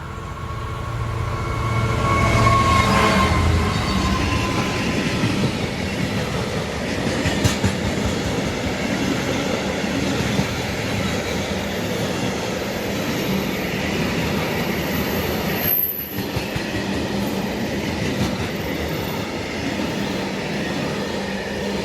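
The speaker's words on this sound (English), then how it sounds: "Class 66, working hard." A Class 66 freight train works hard past Tuxford, its heavy diesel drone and steady rolling wagon rumble loud and sustained throughout.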